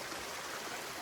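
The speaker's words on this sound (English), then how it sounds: "Starting to rain." Rain begins to fall in Fiordland backcountry, a soft steady hiss of drops on foliage and ground with no distinct individual impacts, faint and continuous.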